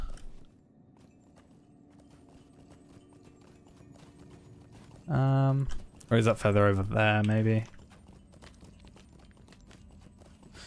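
Horse hooves clop in a steady walking rhythm in the online game Lord of the Rings Online, a soft, continuous patter that carries on under a voice as he speaks briefly in the middle.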